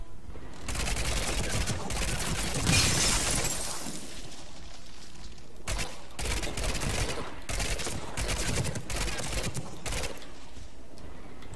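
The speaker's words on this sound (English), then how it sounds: "Burst fire. Excellent use." Collector weapon burst fire in the video game Mass Effect 3, repeated rapid bursts of harsh, crackling gunfire with shattering impacts, loud and dense across the whole stretch.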